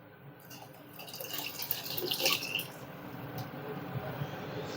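Water is poured from a vessel into a pot of moong dal soup, a soft liquid splash swelling to a brief gush near the middle before settling, faint and close.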